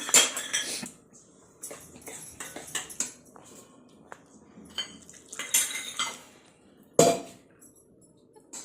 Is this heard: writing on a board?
no